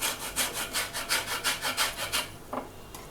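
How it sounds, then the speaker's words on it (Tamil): Orange peel scraped lightly against a metal grater for orange chicken, a steady rhythm of about a dozen close, rasping strokes with no talk. "இந்த ஆரஞ்சு பழத்தோட தோலை வந்து இந்த மாதிரி துருவுறதில் வச்சு இந்த லைட்டாக கொஞ்சம் வந்து நம்ம துருகி எடுத்துக்க போகிறோம்"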